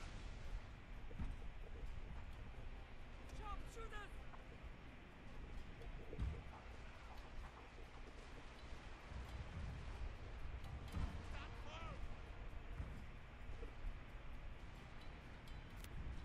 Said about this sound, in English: So they are firing at us.